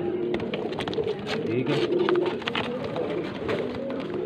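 Pigeons including Lakha, Rampuri and Kasuri birds coo in a steady low murmur from a loft, joined by frequent wing flutters and scratchy clicks, with a brief spoken word partway through.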